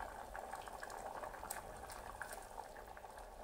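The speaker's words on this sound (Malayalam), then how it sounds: "ഇപ്പം നന്നായിട്ട് തിളക്കുന്നുണ്ട്." Chickpea curry (kadala curry) bubbles steadily in a pot on the stove, a soft, continuous boiling with small pops and gurgles, close and quiet with no talking.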